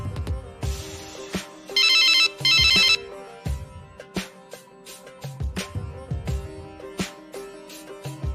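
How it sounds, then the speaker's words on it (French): A telephone rings in two short electronic bursts amid a busy room of clattering and thumping noises, close and loud, with no talking. "Le téléphone sonne, mais il tombe sur le répondeur."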